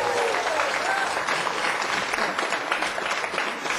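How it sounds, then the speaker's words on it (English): A television studio audience claps loudly and continuously as a resident scientist is introduced, a dense, even wash of applause with faint voices underneath. "Save the applause for later."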